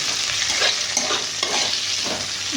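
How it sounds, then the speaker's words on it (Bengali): Onions fry in oil in a pan as they are stirred, a continuous close sizzle broken by soft scraping strokes of the spoon, with no talking. "পেঁয়াজগুলোকে দিয়ে দিয়েছি।"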